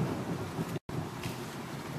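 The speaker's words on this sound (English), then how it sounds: "There's another clap of thunder." A deep rumble of thunder rolls through a wash of steady rain and wind noise in a car park after a heat wave, with a brief cut of silence partway.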